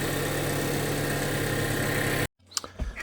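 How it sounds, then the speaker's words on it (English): A 2025 Toyota 4Runner Trailhunter's engine idles with a steady, close hum for about two seconds, then cuts out abruptly, leaving a few light clunks and knocks in near silence. "Obviously the engine's running, but looking good."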